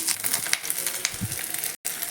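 Cubes of paneer frying in a pan for chilli paneer give a steady, close hiss of sizzling oil that runs almost unbroken through the short stretch, briefly cutting out near the end.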